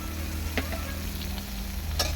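Chopped green chilli, ginger, onion and tomato fry in oil in a pan over a traditional clay stove, giving a steady close sizzle with a few brief scraping stirs and no voices.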